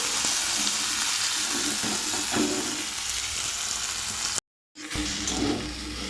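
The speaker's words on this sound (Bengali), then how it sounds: "এই নোটের শাক দিয়ে এটা একটু চচ্চড়ি বসাবো।" Amaranth greens chorchori with jackfruit seeds and dried red chilli tempering sizzles steadily in a pan, a continuous close frying hiss with a brief dropout near the end before resuming.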